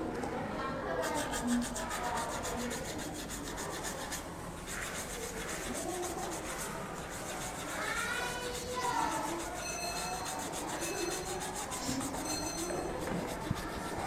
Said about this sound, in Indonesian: cuci telur bebek hingga bersih, kemudian amplas kulit telur sampai habis